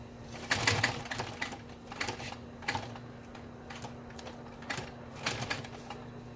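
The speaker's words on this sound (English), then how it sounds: "I'll just run the machine, maybe have my foot just barely on it so it kind of takes the weight off of it." An auto upholstery sewing machine running, giving a steady low motor hum under a rapid, rhythmic clicking of stitches that swells and eases a little, close and moderately loud, with no talking.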